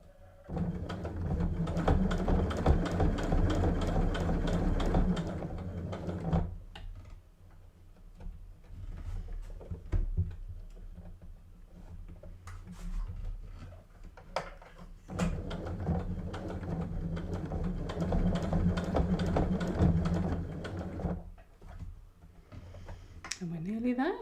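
A sewing machine stitches a side pouch in fast, rhythmic runs of close mechanical chatter, stopping and restarting between bursts, with a person talking over it.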